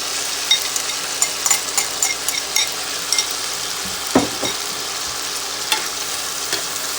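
Noodles and sauce stir-fried in a pan, a steady loud sizzle with scattered crackles and pops, plus a few scraping stirs of a utensil against the pan, no talking.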